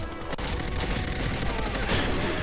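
Shotguns fire in the video game GoldenEye 007 on a custom office level, a dense, loud barrage of overlapping blasts continuing throughout with a sharp crack near the start.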